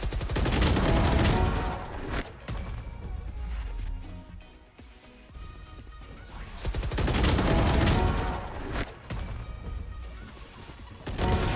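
Rapid video game gunfire in a competitive match ending in a headshot kill, with bursts of shots, a quieter stretch, and then heavy sustained firing again under loud in-game sound.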